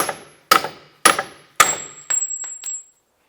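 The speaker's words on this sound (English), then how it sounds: "I'm just going to go ahead and use my hammer, and I'm going to strike the CV axle here to get that out of the transmission." A hammer strikes a CV axle to drive it out of the transmission of a 2006-2011 Cadillac DTS: four loud ringing metallic blows about half a second apart, then three quicker, lighter taps with a high ring.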